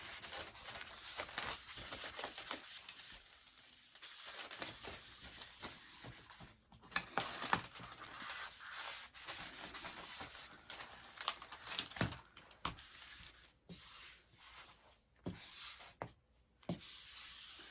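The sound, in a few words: squeegee smoothing vinyl over photo print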